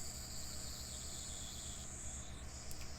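Cicadas chirp in a steady, high continuous drone with a faint pulsing texture underneath, moderately distant and constant throughout, with no voices, in the anime Steins;Gate.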